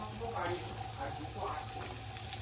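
Carrots frying and being stirred in a pan for homemade fried rice give off a steady, close sizzle with soft scraping running through it, while a faint tonal hum sits underneath.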